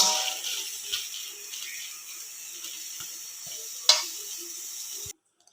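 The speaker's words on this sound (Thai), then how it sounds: "นี่จ้ะคั่วไปเลยจ้ะ" Chili paste ingredients dry-roasting in a pan give a steady, fairly close hiss broken by a few soft scrapes and one sharper clink; the sound cuts off abruptly near the end.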